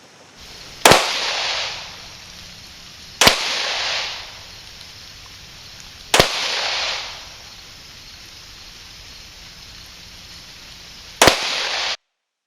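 Four pistol shots ring out at an indoor range, each a sharp, loud crack with a short echoing tail, spaced a few seconds apart with a longer gap before the last.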